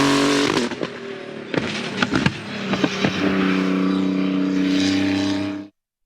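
A Renault RS01 race car engine roars loudly and close on a track test, with a sustained high-revving drone broken by sharp bangs and crackles during gear changes before cutting off abruptly.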